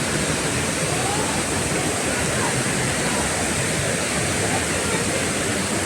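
Haritheerthakkara waterfall near Sreenaduvil in Kannur roars as a dense, unbroken rush of falling water, loud and close, with no pauses.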